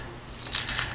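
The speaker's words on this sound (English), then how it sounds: "I always cut the foam core with the paper still on" Blade cutting through foam core board with its paper facing still on, two short faint crisp slicing scrapes in a quiet room.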